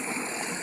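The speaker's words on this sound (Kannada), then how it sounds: "ಎಲ್ಲ ವೇಸ್ಟೇಜ್ ನೀರು ಎಲ್ಲ ಇಲ್ಲಿ ಬರ್ತವೆ." Gutter waste water rushing into a filter, a dense steady roar of flowing water, close and loud without a break throughout the short stretch.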